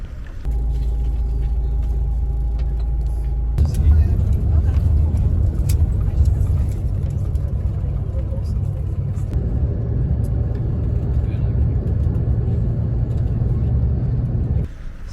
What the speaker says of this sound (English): I had to take the bus again. 2 hours of pure joy. Back seat.